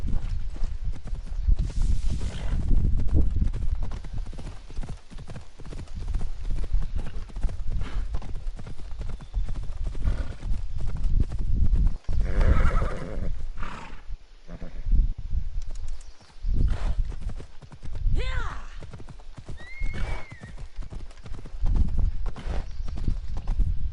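Rhythmic clip-clop of horse hooves at a steady gallop in the video game Assassin's Creed Odyssey, continuous and fairly loud, with occasional brief vocal sounds and a whinny-like cry mixed in.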